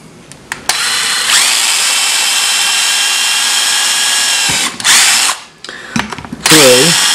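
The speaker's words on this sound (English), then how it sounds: "And then I'm going to drill" A power drill bores through wood with a loud, steady high whine held for several seconds, then stops and restarts in short bursts, close up.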